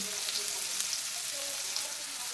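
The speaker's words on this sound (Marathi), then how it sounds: "तेल चांगले गरम झाले की याच्यात असा बारीक चिरलेला कांदा घालायचा आहे" Finely chopped onion frying in hot oil for bombil masala, a dense, even, crackling sizzle that stays loud and steady throughout, with no talking.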